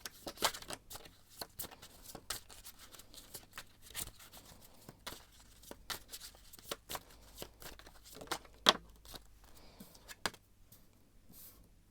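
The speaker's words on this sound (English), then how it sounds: "I'm going to shuffle a little bit more about your December month." Tarot cards are shuffled by hand in a quiet room, a soft, continuous run of papery riffles, slaps and crisp flicks with a few sharper snaps, close and low in level.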